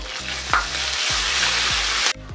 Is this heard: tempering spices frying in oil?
yes